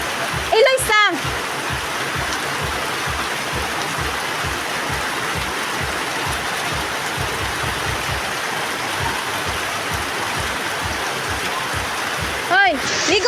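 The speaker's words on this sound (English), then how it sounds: "Oh, the rain was heavy." Heavy rain pours down on a rainy afternoon, a dense, loud, continuous hiss and patter with splashing throughout, and brief squeaky sounds at the start and end.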